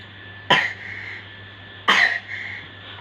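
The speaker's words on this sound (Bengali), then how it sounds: "কাশি হচ্ছে?" A young child coughs twice, two sharp, close bursts about a second and a half apart, with quiet room tone between.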